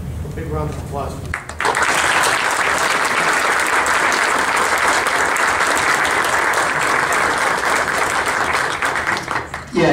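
After a brief spoken moment, an audience breaks into loud, dense applause for the Bristol Police Explorers at their awards ceremony, sustained evenly for the rest of the stretch.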